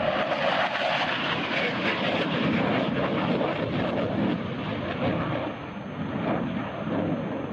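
A loud, steady roar from an F-104 Starfighter jet flying at an air show, broadband and sustained throughout with no pause, the pitch shifting only slightly as it passes.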